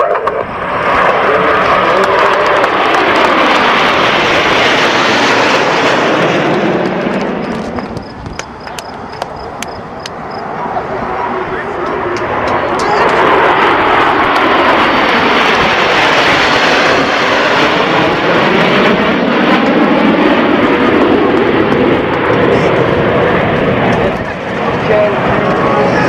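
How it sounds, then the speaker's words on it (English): Nine Snowbird jets fly past in line-abreast formation at a Saskatoon air show, a loud roaring pass that swells, sweeps down in pitch, briefly eases, then builds into a second long roar, with a voice faintly underneath. "we salute them with the Snowbird 9 plane line abreast"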